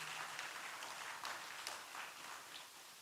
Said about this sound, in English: I think they deserve a resounding round of applause